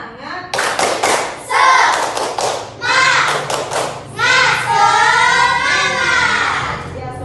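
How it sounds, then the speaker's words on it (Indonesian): Primary school children perform a rhythmic group spirit clap in a classroom, chanting as they go, with close, loud claps in set patterns broken by short pauses. "Coba kita tepuk semangat dulu."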